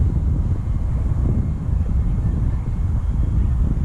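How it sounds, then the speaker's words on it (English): A ground-launched RC glider with an EDF ducted fan strapped on the back, running 6S power, flies overhead as a constant, rushing airflow roar mixed with wind buffeting on the microphone, loud and steady with no voices. "Fly a glider with an EDF strapped on the back."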